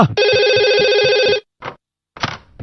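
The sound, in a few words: telephone ringing in Doraemon cartoon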